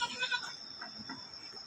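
A goat newly moved to a cold mountain pen bleats faintly a couple of times in a short burst, mid-distance over a hissing, breezy background.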